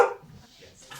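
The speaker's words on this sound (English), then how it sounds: "just had a package delivered, the dog's barking" A single sharp dog bark at a package delivery at home, loud and close at the start, fading into quiet room sound with a faint noise at the end.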